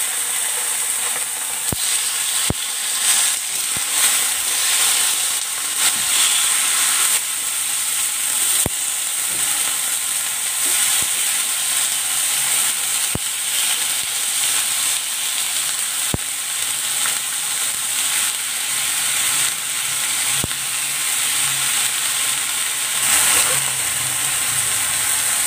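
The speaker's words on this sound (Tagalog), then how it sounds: "next ipapan-grill ko naman itong chicken" Chicken sizzling steadily on a grill pan while tofu dishes are being cooked, a continuous bright crackling hiss with occasional sharp pops and faint utensil clicks throughout, no talking.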